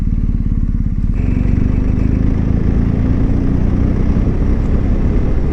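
A BMW 1250 GSA motorcycle rides along with a loud, continuous engine rumble and road and wind roar close to the rider, steady throughout.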